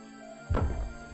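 A single heavy thud from the video game Detective Grimoire: Secret of the Swamp lands about halfway through, a deep impact with a brief rumbling tail, alone against a quiet background hum.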